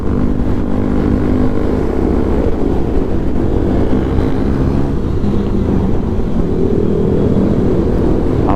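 Continuous loud engine roar of motorcycles, likely Pulsars, speeding past on a road during a group bike ride, heard close with steady rumble and wind noise throughout.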